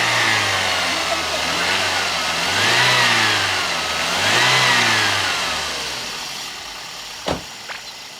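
The 1500cc VVT-i engine of a 2004 Toyota Vios runs steadily and close up, revving up and settling back twice in smooth swells before easing toward idle, with a few brief knocks near the end.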